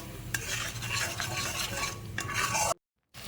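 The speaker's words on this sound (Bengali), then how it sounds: "এবার আমি এর মধ্যে দিয়ে দিচ্ছি কাজু বাদাম আর চাল মগজ বাটাটা দিয়ে আমি ভালো করে কষিয়ে নিচ্ছি" A paste of cashews and melon seeds is sautéed and stirred in a pan for a cauliflower dum gobi dish, giving a continuous close sizzle with spoon scrapes and clinks. It breaks off briefly into silence, then resumes.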